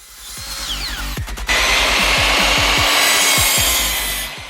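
Miter saw cutting wood fascia pieces at 45-degree angles for floating shelves: a motor spins up, then the blade bites through the board with a loud, steady rasp before winding down near the end.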